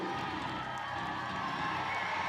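A live crowd cheers and whoops behind a woman's heavy deadlift at a strength competition, a dense, continuous roar of voices that stays fairly distant and even throughout.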